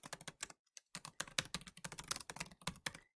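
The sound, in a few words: typing on a computer keyboard in Excel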